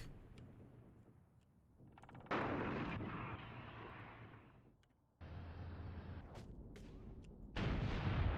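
Gunfire and artillery thunder through an Iran-Iraq war video game battle during an Iranian wave attack on Iraqi armored defenses, with dense rumbling barrages and sharp bursts that swell loudly at several points, no voices heard.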